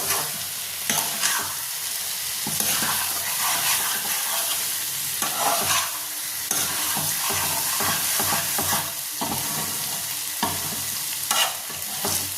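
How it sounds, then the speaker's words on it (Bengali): Chicken liver curry sizzles steadily in a pan while a spoon stirs it in repeated scraping strokes, close and fairly loud with no talking. "আমি এটাকে আরেকটু ভাজা ভাজা করে আরেকটু ড্রাই করে তারপর নামাবো"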